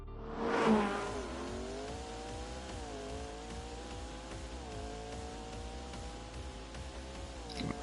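Cars in The Grand Tour racing game rev and drone steadily, an engine note rising and falling through gear shifts after a brief loud burst at the start, with no talk.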